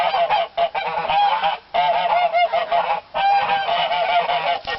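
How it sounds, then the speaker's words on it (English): Geese honk loudly and continuously, a dense, repeated chorus of harsh nasal calls close by with only brief pauses. "oh, those geese don't shut up."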